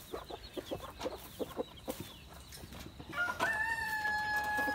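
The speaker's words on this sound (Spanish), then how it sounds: "Ahorita puse aquí todas las gallinas juntas con un solo gallo." A lone rooster crows loudly and drawn-out among a flock of hens in a backyard coop, following a run of quick rhythmic clucking and cackling from the hens nearby.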